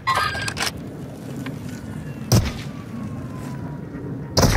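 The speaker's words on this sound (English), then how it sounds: "Look out, Splinter. They're shooting." Enemy gunfire in a video game: a few sharp, loud bursts, a cluster at the start, then single cracks midway and near the end, over a steady low rumbling background.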